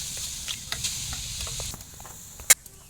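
Washed raw mango pieces go into a dry pan for a sweet-sour mango pickle and are stirred, making soft scraping and light sizzling with a sharp clatter near the end.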